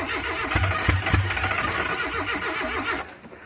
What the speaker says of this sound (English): Just see if it'll crank just a little bit.